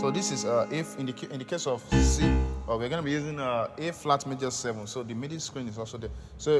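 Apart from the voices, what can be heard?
No distinct noise like a dog, phone or traffic.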